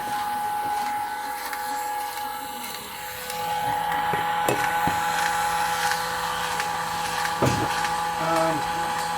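A Porter Cable 2610 drill runs with a thin, whiny motor hum through a busy, noisy room, with brief clanks and bursts now and then and a slight rise in level partway through.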